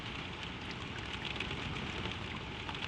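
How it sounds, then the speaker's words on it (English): Steady, gentle rain falling above an old cinema after the last showing, a soft, even hiss with no breaks from start to finish, fairly faint and heard without any voices. "only the rain keeps on above"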